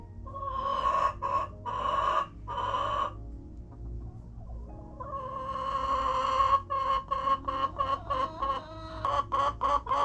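Chickens cluck in bursts nearby around a replaced nesting box, a series of agitated squawks and rapid clucks with brief pauses between them.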